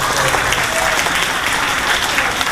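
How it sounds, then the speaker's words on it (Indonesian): An audience at an Indonesian national-affairs talk show claps loudly to welcome a guest, a thick, sustained round of applause with a faint crowd murmur and no clear speech. "kita akan sambut dengan tepuk tangan ya"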